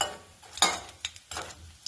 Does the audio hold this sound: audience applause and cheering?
no